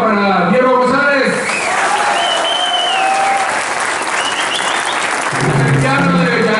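Loud, sustained applause from a theatre audience at a live salsa concert, greeting the timbal player; steady dense clapping throughout with crowd noise and a voice over it, swelling again near the end.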